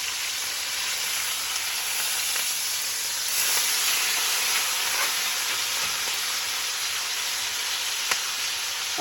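A steak sizzles hard in a hot pan just after being turned, a dense, steady, close hiss and crackle that holds evenly throughout with no voices.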